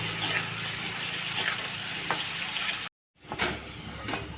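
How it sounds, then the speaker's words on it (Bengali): Onion sizzles steadily in hot oil with turmeric added, a continuous frying hiss with occasional stirring scrapes, briefly cut off by a short gap before the sizzle resumes. "ভালো করে কষতে নেব পেঁয়াজটা। একটু হলুদ দিয়ে দেব, লাল লাল করে ভেজে নেব।"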